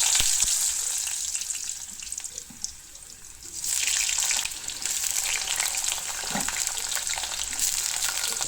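Potatoes frying with fenugreek seeds in hot oil, a loud close hiss and crackle that eases for a moment and then surges again, with light stirring and no voices.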